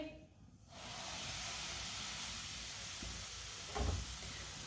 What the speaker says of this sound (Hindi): घी हमारा गर्म हो चुका है। 1 प्याली सूजी डालेंगे।